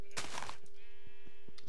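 A sheep bleats once in Minecraft with the Pixelmon mod, a short nasal cry, followed by faint game tones and soft thuds.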